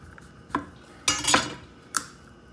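A knife cuts a V into the root end of a peeled butternut squash on a board, giving a few separate clicks and scrapes of blade against wood, with a brief cluster in the middle, close and fairly quiet.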